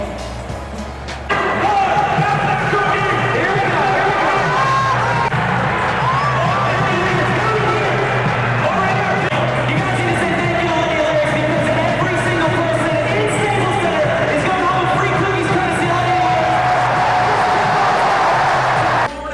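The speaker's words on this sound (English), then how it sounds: "During games and many free giveaways brought out the great excitement of the crowd." A crowd at a Kings basketball game cheers loudly and continuously, a dense roar of voices mixed with whistles and shouts that holds at full strength for most of the time after a brief quieter opening.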